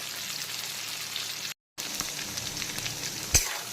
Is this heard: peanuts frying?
yes